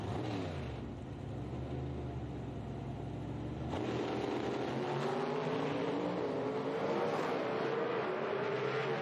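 A loud, roaring nitro drag race car engine rumbles, then surges hard as it launches and accelerates down the strip, pitch climbing steadily, heard from a distance.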